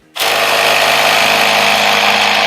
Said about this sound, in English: that will make a really loud air compressor noise